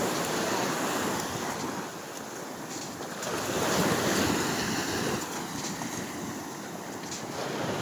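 Waves washing up a beach in the early morning, steady surf rushing in and swelling louder around the middle, with wind buffeting the microphone throughout and no voices.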